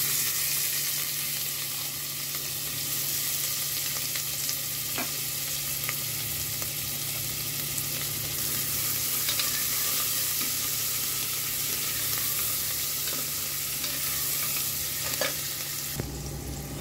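Crushed garlic, onion, green chili and ginger sizzle steadily in hot oil for dal tadka, a continuous close frying hiss with occasional faint stirring clicks.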